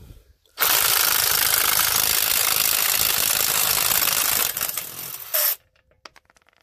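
A Parkside PDSSA 20-Li A1 cordless impact driver unscrewing a fastener rated at 180 Nm, hammering loudly and steadily for about four seconds, then a brief fade, a final short burst and a stop, leaving faint clicks.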